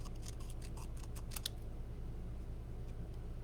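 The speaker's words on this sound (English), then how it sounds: "I'm just cutting it freehand" Scissors cut paper freehand in quick, crisp snips, a cluster of close, sharp cuts over about a second and a half, then only a faint steady hum remains.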